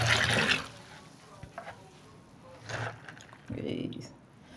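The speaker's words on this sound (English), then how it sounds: "add this water." Water is poured onto beans in a home kitchen while making bean flour, heard as short splashing, pouring bursts at the start and again near the end, fairly quiet and close, with gaps between.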